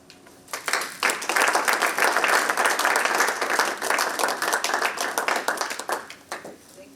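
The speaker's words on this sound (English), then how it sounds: "Another round of applause, please." An audience at a commemorative event in the US Capitol claps after a speech. Applause swells quickly, stays steady and fairly loud for several seconds, then thins out near the end.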